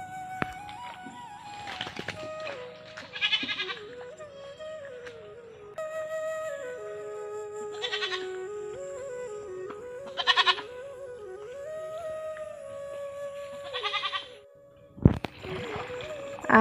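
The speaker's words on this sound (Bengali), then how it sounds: "দেখো ছাগলগুলো নিয়ে আসলাম, ওরা এই চিৎকার করছিল প্রচন্ড" Goats that had been tethered in mud on a village homestead bleat loudly several times, their wavering calls clear and close, with a few splashing and handling noises between them.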